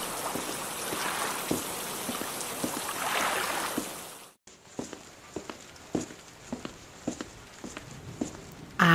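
Rain in an animated scene, a continuous soft patter of falling drops that cuts out briefly midway, then returns with scattered sharper drip or step-like taps, moderately quiet with no talk.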